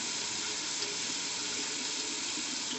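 Water rushes steadily out of a colander of rinsed canned corn into a kitchen sink, a soft, continuous splashing hiss that runs unbroken and fairly quiet.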